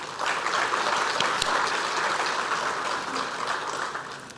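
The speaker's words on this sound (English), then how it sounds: "So please give them another round of applause." Steady audience applause for a team at an awards ceremony honouring students and graduates, a sustained, fairly loud clapping wash in a hall without speech.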